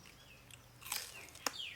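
Crunchy chewing and biting of bitter gourd eaten with spicy seafood papaya salad, a few close crisp bites spaced over a quiet background, with faint bird chirps nearby.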